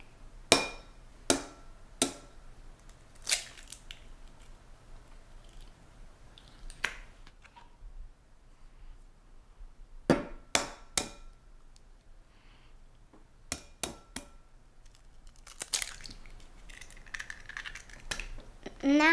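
Eggs cracked one after another against a hard edge in a home kitchen, giving sharp, close clicks and cracks in small clusters separated by quiet pauses.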